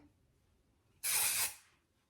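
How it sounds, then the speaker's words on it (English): One close, sharp hiss of a spray bottle spraying onto a lace front wig lasts about half a second, then fades into near silence. "I'm gonna do a little spray just so that we stay."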